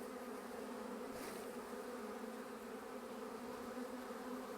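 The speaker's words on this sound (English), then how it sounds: "Plenty of bees in that one now" A steady, dense buzzing of many bees at a beehive, continuous and fairly close, with no voices.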